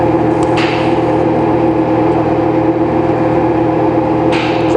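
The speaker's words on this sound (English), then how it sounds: "We are welding." Welding, a steady loud electric hum and buzz running unbroken for about five seconds, with a couple of brief crackling bursts near the start and end.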